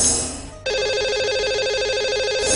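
A telephone rings for a lucky caller on a radio show, the electronic trilling ring starting sharply after a short stretch of studio background and repeating steadily, loud and close, with no one talking over it.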